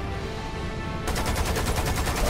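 Cannon and rapid gunfire in the co-op shooter Lost Planet 2, a steady mechanical hum giving way to a dense, rhythmic stream of fast repeating shots that stays fairly loud and continuous with no talking.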